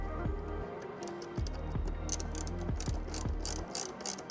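A ratchet wrench tightens a 10mm nut onto a post of a hybrid Toyota's fuse box, giving steady close clicking pawl strokes in repeated bursts with short pauses, loud and alone without talk.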